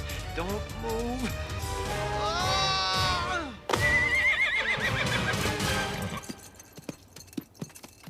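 A horse neighs loudly in long, wavering whinnies, then hooves clatter and thump; voices are also heard during the commotion.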